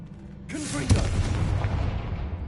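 A Confringo fire spell blast in Hogwarts Legacy, a sudden whooshing burst with a heavy booming impact that rolls off into a long fading rumble, loud and close.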